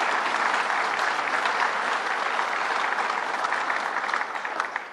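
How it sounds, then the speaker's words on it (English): An audience at a government economic development announcement breaks into a round of applause, a dense, steady wash of clapping from many hands that holds evenly and begins to thin near the end. "Howard Zemsky, let's give him a big round of applause."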